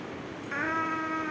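A single drawn-out cat meow, clear and fairly close, rising then holding its tone for about a second.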